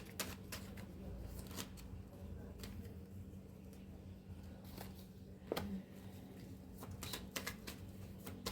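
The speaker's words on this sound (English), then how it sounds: "Let me pull some cards for you guys." Tarot cards are shuffled and pulled from a deck in soft, quiet riffling and slapping strokes, with scattered crisp snaps repeating through the whole stretch.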